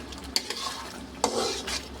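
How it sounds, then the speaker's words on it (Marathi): A spoon stirs ground spinach masala in a hot pan for palak paneer, with two sharp scraping knocks against the metal and a soft sizzle of frying in between, close and clear with no talking. "आणि या मसाल्याला हलवून घेऊ."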